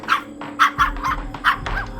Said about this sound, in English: my mother's Pomeranian named Samson came down the stairs and stopped right beside me and started barking at the cat